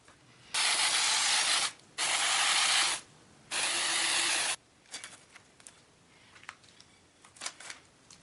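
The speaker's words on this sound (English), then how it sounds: "I sprayed both the tile and the felt with spray adhesive" Three short hissing bursts of aerosol spray adhesive onto tile and felt, each about a second long, followed by faint rustling and small handling noises.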